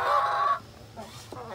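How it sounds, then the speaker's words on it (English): Chickens clucking in a backyard chicken coop, one loud close burst of fowl calls at the start, then quieter scattered clucks and faint voices in the background. "out here in my chicken coop"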